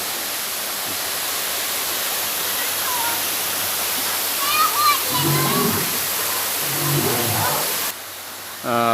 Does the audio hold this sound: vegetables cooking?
no